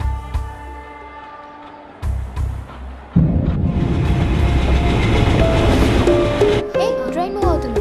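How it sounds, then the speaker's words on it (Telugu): A train starts moving and pulls away, with a steady loud rumble of wheels and carriages building up, briefly preceded by voices and a low hum, and ending with overlapping talk. "ట్రైన్ మూవ్ అవుతుంది."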